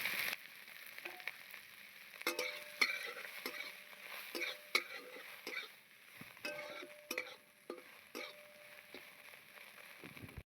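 Oil sizzles steadily while boiled soya chunks are stirred and fried in a pan, with repeated scraping strokes and light clinks of a utensil against metal, close by.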